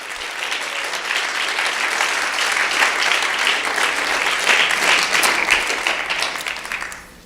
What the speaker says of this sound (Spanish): Fuerte el aplauso, con ganas.